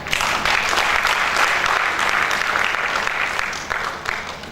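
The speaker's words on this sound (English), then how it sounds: "Can we give a clap for that?" Audience applause at a City Alliance program speech in Monrovia, Liberia: steady, dense clapping from a large crowd, loud and sustained throughout, easing slightly near the end.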